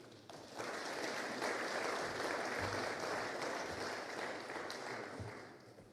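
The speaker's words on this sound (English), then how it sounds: "Please join me in a round of applause for Lieutenant General Jacob." A room of distinguished guests at a book launch on warfare breaks into a round of applause for a lieutenant general, the clapping starting abruptly, holding steady and moderately distant, then easing toward the end.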